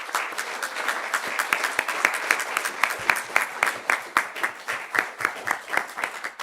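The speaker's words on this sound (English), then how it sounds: "Y'all clap it the way y'all clap at the basketball games and the football games" Audience applauding at a city council regular session, a dense run of sharp hand claps from many people that rises and falls in waves, moderately loud and close, with no speech over it.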